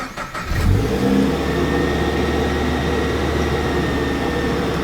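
A turbocharged car engine cranks briefly, catches and fires up, revving slightly before settling into a steady, loud idle nearby.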